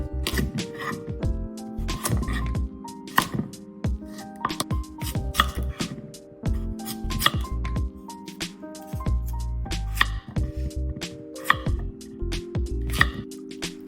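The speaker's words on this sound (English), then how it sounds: "Cut lotus root, daikon, and kabocha into bite-sized pieces." A knife chopping lotus root, daikon and kabocha into bite-sized pieces on a cutting board, sharp irregular thunks in quick clusters separated by brief pauses, close and clear with no talking.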